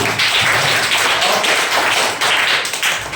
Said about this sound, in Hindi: एक बार जोड़ा ताली बजा दीजिए इसके लिए।